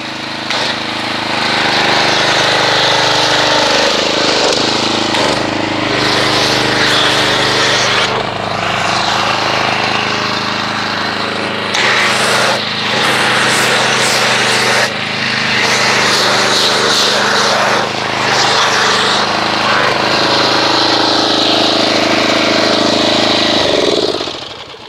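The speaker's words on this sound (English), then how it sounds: "I think my pump's going bad." Failing pump droning loudly and continuously while foaming soap onto a car during a wash, a rough mechanical whine with fluctuating tone and hiss, close and unbroken throughout.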